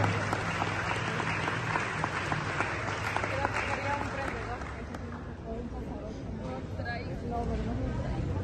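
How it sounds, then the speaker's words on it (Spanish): Loud, sustained applause from an audience at a school graduation and closing ceremony for CBTA 10 in Pinotepa Nacional, Oaxaca, with crowd murmur mixed in and a voice announcing over it. "Que se escuchen los aplausos,"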